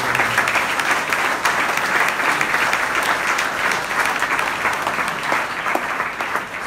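Sustained audience applause at a Lorrain fête patronale, a steady wash of many hands clapping throughout at even loudness, with no voices standing out.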